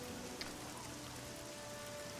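Rain falls in the video game Oblivion, a soft, even hiss of drops with one faint tap, steady and quiet throughout with no voices.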